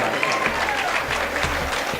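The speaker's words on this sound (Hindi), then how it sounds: "एक मरतबा तालियां बजाकर" An audience at a Malegaon mushaira in 2016 gives steady, crowded applause, a continuous patter of many hands that stays loud throughout.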